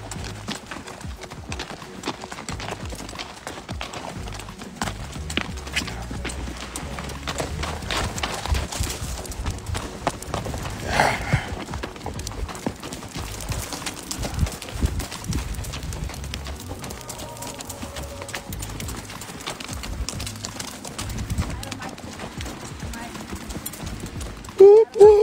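Horses' hooves clip-clop steadily while people ride on horseback in Iceland. The clopping is continuous and moderately loud, mixed with wind and handling noise, with a sharp thump at the very end.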